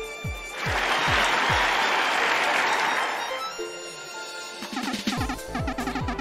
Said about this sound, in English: Let's get this crowd wild and cheering.